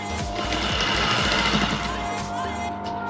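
A sewing machine stitches the bottom of a fabric plant pot for a vertical garden, running in a fast, steady mechanical rattle close by for a few seconds with no talking.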